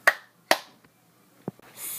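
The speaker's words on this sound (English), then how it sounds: "Clap two times." Two sharp hand claps open the cup song, crisp and close, about half a second apart, followed by a faint knock and quiet rustle.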